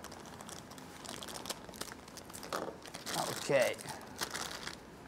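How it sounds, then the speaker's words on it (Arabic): A plastic bag holding a Destiny 2 gift is pulled open and crinkled up close, with crackly rustling bursts that peak midway and a brief voice speaking over it. "خلينا نفك عن الكيس عشان نشوفه احسن"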